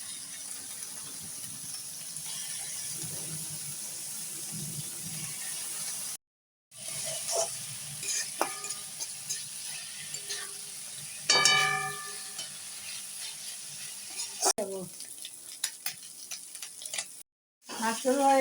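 Oil sizzling and frying steadily in a pan before fish is added, a continuous close hiss with brief stirring clatter and a couple of short dropouts, while someone talks at times over it.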